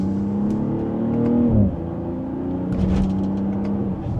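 A 2025 BMW X4 M40i in sport mode, second gear, accelerates with a steady engine drone that rises in pitch, drops at a shift, then climbs again, heard from inside the cabin at moderate level.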